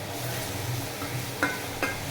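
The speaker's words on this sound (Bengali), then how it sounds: "এবার নাড়াচাড়া দিয়ে নামিয়ে নেবো" Kochur loti curry stirred in a frying pan, a steady low scrape and faint sizzle with two brief sharper clinks of the spoon against the pan near the end, no talking.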